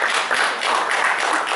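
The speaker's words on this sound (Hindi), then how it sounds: "इनका भी स्वागत कीजिए तालियों के साथ।" Audience clapping to welcome a guest at a nutrition role play event, a brief dense patter of many hands that holds steady for under two seconds.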